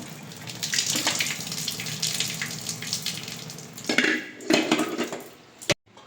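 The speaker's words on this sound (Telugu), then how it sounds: "ఈ నీళ్ళు వంచేసి చన్నీళ్ళు పోద్దాం" Hot water drained off boiled eggs in a kitchen, then cold water poured over them: splashing, running water with clinks of a pan and eggs, a few bursts and a sharp knock near the end, no talking.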